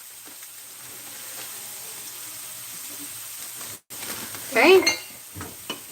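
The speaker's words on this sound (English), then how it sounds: "I'm just going to brown them so they don't fall apart when I bake them" Meatballs browning in a pan give off a faint, steady sizzle, swelling into a brief louder burst of frying and stirring near the end; one short spoken word passes over it.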